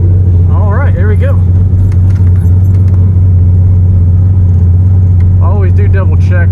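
A 1991 Foxbody Mustang with an LS turbo engine idles and rolls slowly onto a trailer, its steady deep rumble close and constant beneath someone talking.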